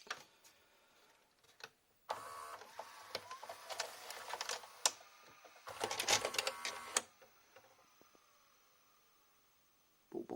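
A 1998 JVC HR-J756MS VHS recorder that took on water, its tape mechanism whirring, clicking and grinding in uneven bursts with short pauses and a mechanical clunk between them.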